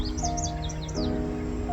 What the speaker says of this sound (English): I love hearing the birds chirp.